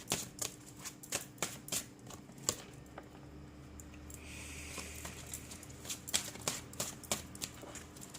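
Tarot cards are shuffled close by, a quick run of crisp riffling snaps and soft flutters repeating in bursts.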